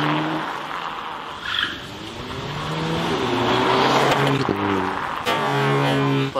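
Car rolling over a Galaxy S6 calculator, engine and tyre noise building steadily to a loud close pass with a sharp crunching transient near the end, no voices.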